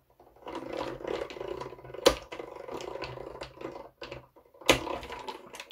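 Paper layers cranked by hand through a die-cutting embossing machine, giving a low grinding roll with two sharp clicks as the plates pass through, fairly quiet and alone.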